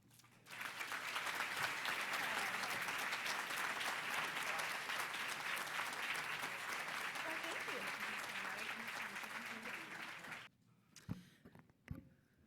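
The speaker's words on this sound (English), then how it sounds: "Let's give all of our recipients another big round of applause." Audience applause for award recipients at the Ventura Chamber of Commerce Poinsettia Awards, a long, sustained wave of clapping from a large room that cuts off sharply near the end, followed by brief scattered thumps and murmurs.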